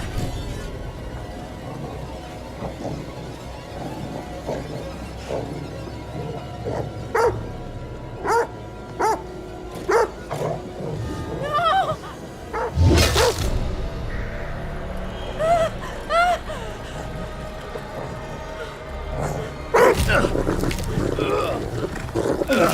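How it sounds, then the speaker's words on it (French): A dog barks in the horror video game The Devil in Me: scattered sharp barks and yelps over a dark game ambience, with a louder burst of growling or roaring midway. "Mais il fallait lâcher le chien."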